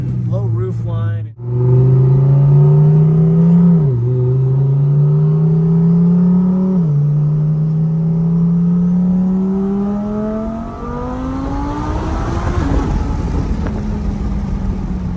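A twin-turbo Gen II Audi R8 pulls hard in several gears, its engine note climbing steadily and dropping at each shift before a final surge, loud and close from inside the cabin.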